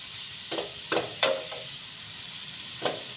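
Grated carrots cooking in ghee for gajar halwa, several short bursts of sizzle and scraping strokes as they are stirred, close, with quiet gaps between.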